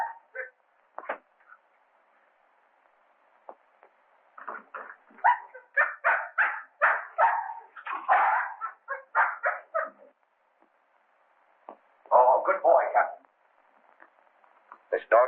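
A dog barks in short repeated bursts and clusters, with gaps of quiet between them, fairly close in an indoor film scene.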